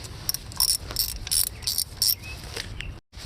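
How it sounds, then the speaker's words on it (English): Repeated ratcheting clicks in short bursts as a TX30 Torx bit loosens a piece near the valve cover on a 1.4 liter Chevy Cruze, close and fairly loud, ending in a brief silence. "now I'm going to use a TX30 Torx bit to loosen this piece"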